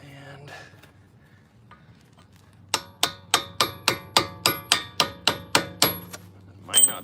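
A hammer taps an axle out of a car in about a dozen sharp, evenly spaced metallic strikes, close and loud, after a quiet stretch with faint background noise.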